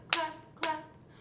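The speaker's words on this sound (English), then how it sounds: "give a little clap, clap, clap" Two separate hand claps, close and moderately loud, spaced about half a second apart during a children's action song at a library storytime, with no voices over them.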